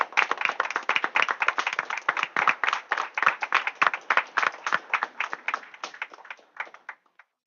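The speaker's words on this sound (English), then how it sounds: "let's give them a round of applause for their achievements" At a school board meeting, a small room of people claps for students, the individual hand claps distinct and close, rhythmically uneven, gradually thinning out and fading to a few last claps at the end.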